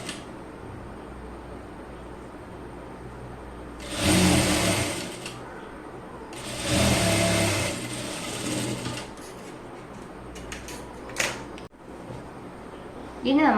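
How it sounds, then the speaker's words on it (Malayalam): A sewing machine stitches children's pants in bursts, with two long whirring runs of a few seconds each and a brief final burst, separated by quiet pauses with faint background noise. "എന്നിട്ട് സ്റ്റിച്ച് ചെയ്യാം."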